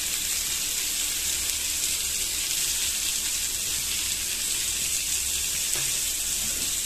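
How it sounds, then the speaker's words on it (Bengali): Tilapia pieces with potato and ridge gourd fry in oil in a pan, giving a steady, even sizzle that runs unbroken throughout at moderate loudness. "নেড়ে একটু ভালো করে ভেজে নেব।"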